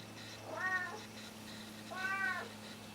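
Two clear cat meows about a second and a half apart, close by, over a quiet steady hum.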